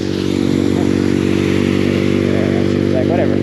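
A motorcycle ridden off-road through a Texas snowstorm, its engine a loud, steady, close drone throughout with scraping and rattling from the ride.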